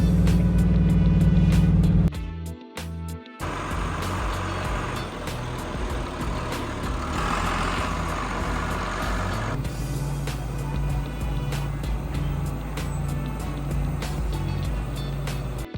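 An old farm truck with a manual transmission drives along, its engine droning loudly close by. The drone drops briefly as though shifting gears, then picks back up as a steady roar with rattles and clunks.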